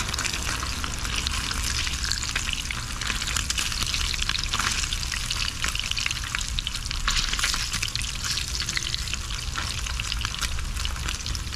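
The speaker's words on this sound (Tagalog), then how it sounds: "Mag-ingat lang sa pagprito ng spam kasi masyado siyang ano, nagtatalsik ba." Slices of Spam frying in a pan while cooking in a car, a dense loud continuous sizzle with popping spatter crackling throughout, close and unbroken with no voices.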